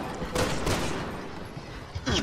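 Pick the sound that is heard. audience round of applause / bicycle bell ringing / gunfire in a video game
gunfire in a video game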